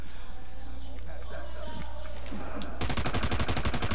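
Sniper gunfire in a PS4 online shooter game, a dense burst of rapid shots breaking in loudly near the end after a stretch of game ambience, with players talking over it.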